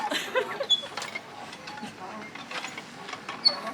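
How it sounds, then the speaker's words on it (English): A cross trainer exercise machine creaks and grinds mechanically in repeated strokes as someone works it, with people talking over it at a moderate level. "it's a cross trainer"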